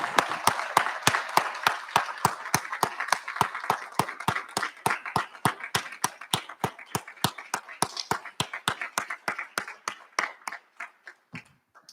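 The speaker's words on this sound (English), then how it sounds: "give them a rousing round of applause for their accomplishment" Graduates at a Tuesday recognition ceremony receive applause from the audience: sharp, regular clapping that starts loud and close, then thins out and fades over about twelve seconds.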